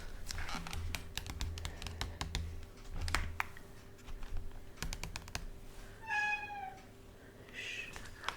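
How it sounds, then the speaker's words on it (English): A cat meows insistently near the door, wanting to go out, with a rising, wavering cry and a second shorter meow, over steady keyboard typing and tapping in a quiet room. "My cat wants to go out."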